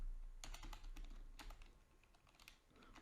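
Keys clack on a computer keyboard as a web address is typed into a browser on a Windows 10 machine, a quick run of close, crisp taps with short gaps and a few final strokes.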